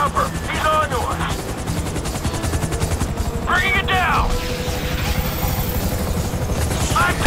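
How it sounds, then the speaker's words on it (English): Gunfire and a hovering police helicopter fill a GTA bank heist shootout, with bursts of shots, a steady rotor drone and loud game effects blended with shouted voices. "FIB chopper, he's on to us!"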